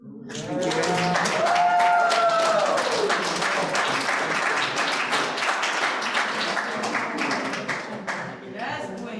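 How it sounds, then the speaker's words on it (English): A poetry-night audience applauds at length, dense clapping and a few cheers rising quickly and then thinning out, with a brief voice at the start. "Can we give another round of applause for Ariane?"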